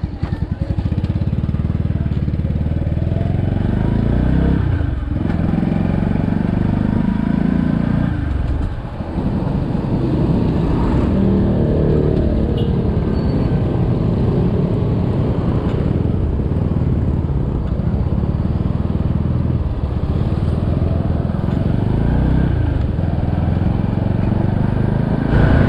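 A motorcycle ridden through traffic toward Malolos Crossing, a loud continuous engine drone rising and falling with throttle changes and gear shifts, heard up close from the rider's position with wind noise.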